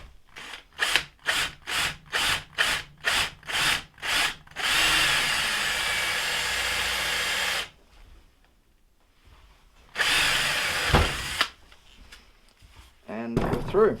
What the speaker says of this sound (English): there's our first 2 holes drilled